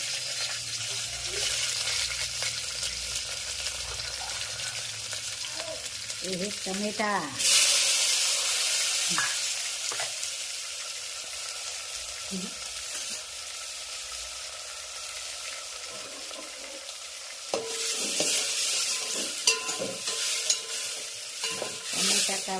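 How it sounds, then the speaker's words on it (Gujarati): Hot oil hisses and sizzles loudly as seasoning is added for tempering dal and tomato, with stirring clatter and scraping in between, then a second burst of crackling sizzle. "વઘાર દાળનો વઘાર છે દાળનો વઘાર ટમેટાનો વઘાર"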